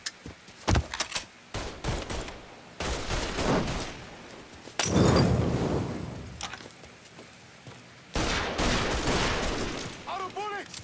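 Gunfire in the video game Mafia III: repeated loud bursts and volleys of shots, with shouting voices mixed in over busy combat noise.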